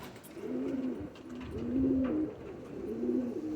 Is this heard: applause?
no